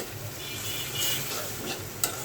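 Spice paste of ground cumin, garlic, green chilies and coriander powder frying and stirred in a pan for a koi fish dopeyazi, a steady close sizzle with scraping stirs and a sharp clink near the end.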